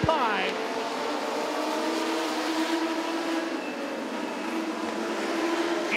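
Legends race cars roar side by side through turn four at Southside Speedway in a national qualifier, a loud sustained engine drone with rising and falling pitch, partly under an announcer's commentary.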